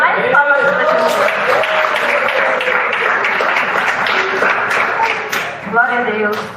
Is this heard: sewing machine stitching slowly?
no